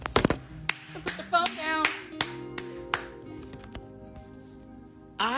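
Single person clapping hands near the microphone, a handful of sharp separate claps spread out irregularly, with a short spoken word partway through and a room hum underneath.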